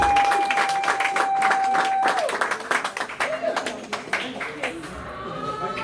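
Audience applause breaks out for Banjoun Foundation USA at a 50th birthday celebration, a dense burst of clapping that thins into scattered claps over a few seconds.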